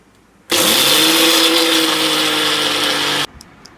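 An electric mixer grinder blitzes cashews, sugar and cardamom powder for kaju katli, a loud steady whirring roar that starts abruptly and runs about three seconds before cutting off.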